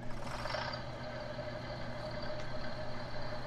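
A John Deere 4455 tractor's large diesel engine runs steadily at idle, a continuous low rumble with a faint high whine on top.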